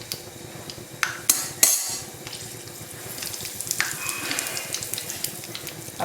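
Spices such as urad dal, cumin and fenugreek with asafoetida sizzle in hot oil in a pan for a Chettinad bean curry, a continuous crackling fry broken by a few sharp clinks and spatters.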